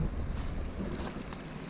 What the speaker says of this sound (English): And you can even hear it. Water is still coming down from the snows that have melted up further up on the mountain, and then the rains.